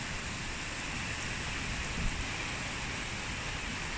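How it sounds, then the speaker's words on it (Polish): Heavy rain pours down steadily in a garden after a severe downpour, a dense, constant hiss of water close by with no pauses, and no voices. "No wali deszczu."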